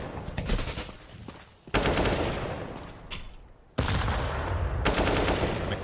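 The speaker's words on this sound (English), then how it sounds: "Exchange of grenades in mid. Some pre-fire from Mayer, but no one's peeking now that the big guns are out" Gunfire and grenade blasts in a Counter-Strike match on the Dust 2 map during a playoff game, dense bursts of rapid automatic fire with sharp abrupt onsets, loud and close, with no voices over it.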